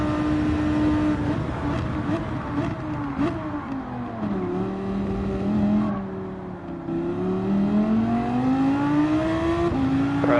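A Gr.3 race car engine at Monza in Gran Turismo 7 drones loudly and continuously, held at high revs in first gear, its pitch dipping and then climbing again with no talk over it.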